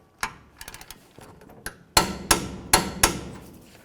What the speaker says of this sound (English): Now we'll snug them up and we'll torque them to 148 foot-pounds.